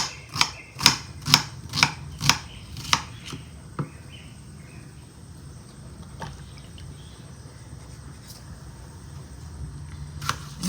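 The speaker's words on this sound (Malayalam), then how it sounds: "ഇതും പിന്നെ അരിഞ്ഞ് ഓരോ സൈഡിലേക്കായിട്ട് മാറ്റി മാറ്റി നമുക്ക് വയ്ക്കാം" A knife chops food in a home kitchen with a quick run of about six sharp, evenly spaced thuds, followed by a few scattered, quieter cuts and light handling noise.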